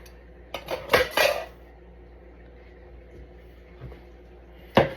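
A few light clinks of a spoon stirring milk in a cup, a quick cluster early on, then a soft tap and one more clink after a quiet pause.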